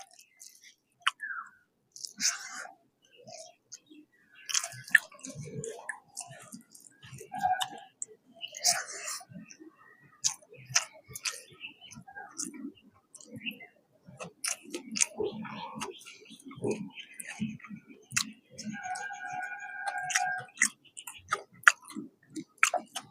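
Someone eats katla fish and mixed vegetable curry with rice on a rooftop, with soft, close, irregular chewing and mouth clicks and small utensil taps, broken by quiet pauses and occasional faint murmurs.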